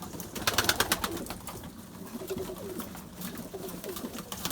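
Pigeons coo in a coop, repeated low throaty calls overlapping with wing flutters and shuffling, fairly close and steady throughout.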